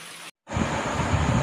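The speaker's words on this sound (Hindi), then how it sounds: "बहुत गिर रहा पानी।" Heavy rain falls at night at a cremation ground, a dense steady hiss and roar that briefly cuts out and then returns louder, with no voices.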